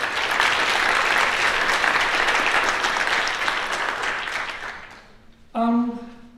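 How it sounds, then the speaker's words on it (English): An audience applauds steadily in an auditorium at a graduation ceremony for international master's students. The clapping fades out after about five seconds, and a single voice then speaks briefly. "So give them an applause, please."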